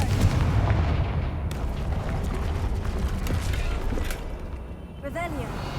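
Confringo fire spell cast in the Hogwarts Legacy video game, a booming, explosive burst with crackling impacts that roll on over several seconds, with a faint chime near the end.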